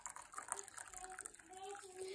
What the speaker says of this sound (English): I'm going to add some hot water, well, boiling water now.